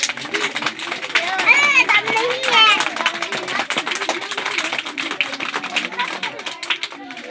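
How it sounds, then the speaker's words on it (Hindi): Schoolchildren clap loudly together in a classroom, giving a dense, fast patter of claps that runs the whole time, mixed with voices and chatter. "शाबाश, एक बार ताली बजाइए जोरदार।"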